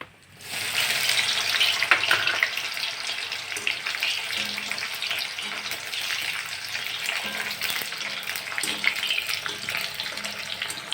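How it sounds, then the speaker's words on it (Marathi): Bitter gourd frying in oil in a kadhai, a continuous loud crackling sizzle that starts abruptly and holds steady, with faint stirring underneath. "आता आपण कारलं तळूया मग करूया तेल घालूया आता कढईत"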